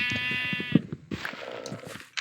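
A goat bleats in the video game Minecraft: a few short, strained cries with a wavering, harmonic tone follow one another, close and clear, with scattered game noises between them.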